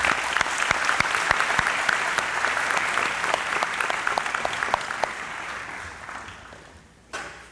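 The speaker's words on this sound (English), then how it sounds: "Take a moment and give yourselves a round of applause." High school graduates applauding at their 2019 commencement ceremony, sustained crowd clapping with sharp individual claps standing out, slowly fading before a final burst near the end.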